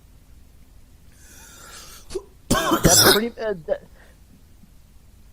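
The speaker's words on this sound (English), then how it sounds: "It was a cough." A sharp, harsh cough bursts out close by, with people talking just before and after it.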